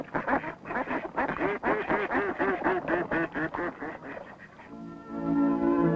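A group of mallard ducks quacks in rapid, overlapping calls, close and fairly loud, in flooded pin oak bottomlands where wintering mallards gather; the chatter ends in a steadier broadband hum.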